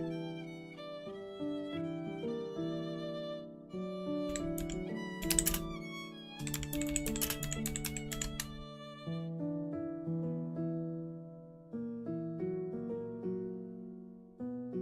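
Fast typing on a computer keyboard comes in two dense bursts of rapid clicking, laid over steady, continuous background music.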